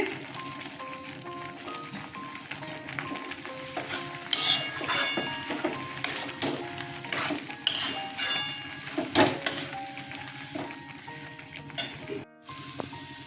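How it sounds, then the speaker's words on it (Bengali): Chicken drops into a hot pan of cooked spice paste and sizzles, with metal utensils clinking and scraping against cookware in irregular bursts. "মশলাটা কষানো হয়ে গেছে মাংসটা ছেড়ে দিচ্ছি"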